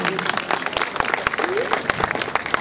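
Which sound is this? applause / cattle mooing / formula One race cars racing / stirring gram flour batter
applause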